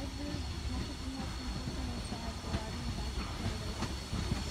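A steady rumbling drone of a locomotive with hiss and light rhythmic clicks, heard from inside the cab.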